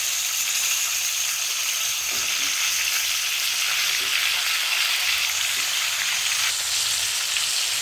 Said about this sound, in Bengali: আলুটা যখন মোটামুটি অল্প ভাজা হয়ে আসবে তখন শিমগুলো ছেড়ে দিচ্ছি।